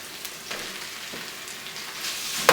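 Ground beef fries in hot oil in a pan for Thai beef pad krapow, a steady close sizzle with scattered crackles and a sharp pop at the end, no voices.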